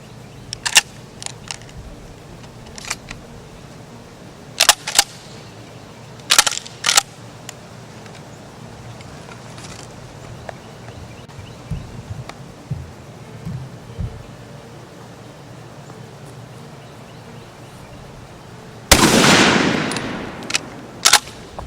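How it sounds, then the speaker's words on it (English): A 10 gauge shotgun fires at a target holder from 40 yards outdoors. One heavy, loud blast comes near the end, preceded by scattered fainter sharp cracks over a quiet background. "we'll shoot the 10 gauge."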